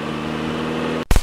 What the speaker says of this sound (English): Here is a car moving.